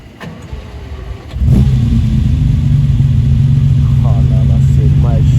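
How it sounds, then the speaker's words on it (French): A Porsche Carrera 4 GTS type 991 fires up on a Paris street, its engine catching with a sharp burst and then settling into a loud, steady, throaty idle close by. "Ça démarre, c'est du bruit d'essence pure."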